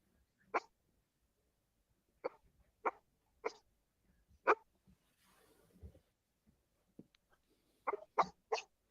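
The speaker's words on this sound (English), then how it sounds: "Yeah, I hear the dog" A dog barking in short separate yelps and huffs, irregularly spaced with a quick burst near the end, fairly close with quiet gaps between.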